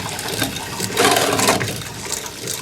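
Homemade tomato basil soup is poured into a canning jar in a home kitchen, giving a short, close liquid splash and gurgle that swells for about half a second.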